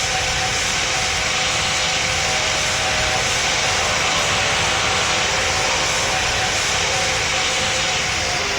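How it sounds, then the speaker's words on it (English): Jet engines roar from an airplane passing overhead in the PTFS flight video game, a loud, continuous, even broadband rush with no talking over it. "Oh, so there's a plane above us?"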